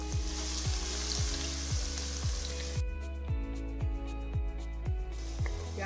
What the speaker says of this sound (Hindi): अब इसी घी में हम प्याज डाल लेंगे।